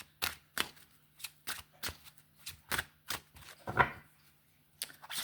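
Tarot cards being shuffled in quick, crisp bursts of snapping and riffling, close and fairly quiet, with short pauses between flurries.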